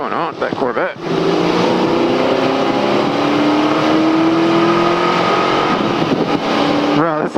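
A stock LS1-powered Chevrolet Corvette accelerates hard, its engine note climbing steadily in a loud, sustained near roar lasting several seconds, with brief voices before and after.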